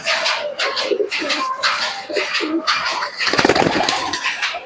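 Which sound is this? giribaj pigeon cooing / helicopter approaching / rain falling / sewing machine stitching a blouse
giribaj pigeon cooing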